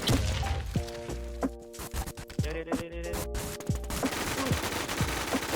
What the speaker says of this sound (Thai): ปืนไม่ตรงยิงไม่โดนอ่ะ